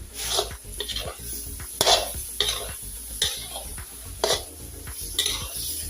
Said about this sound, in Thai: แล้วก็ผัดส่วนผสมให้เข้ากันนะคะ